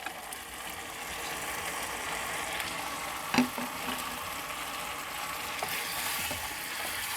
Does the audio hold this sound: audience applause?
no